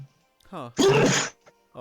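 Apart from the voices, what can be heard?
sneeze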